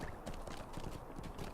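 Horse hooves clip-clop at a quick gallop while riding in Lord of the Rings Online, a steady rapid rhythm of soft thuds, fairly quiet and alone.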